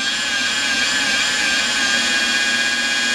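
A rotary polisher spins its pad at about 1,500 RPM while detailing a 1972 Ferrari, giving a steady, loud whirring hum that holds an even pitch throughout with no talking.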